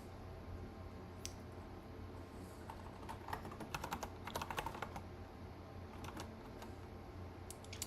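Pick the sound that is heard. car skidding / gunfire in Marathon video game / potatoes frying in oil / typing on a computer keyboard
typing on a computer keyboard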